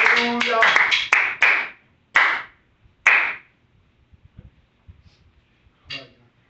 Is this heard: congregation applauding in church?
yes